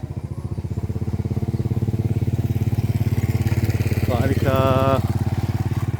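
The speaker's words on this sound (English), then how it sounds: "that's one of the red motorbikes that they have" A red motorbike passing through a Thai village, its steady engine drone loud and close throughout, with a brief higher whine near the end.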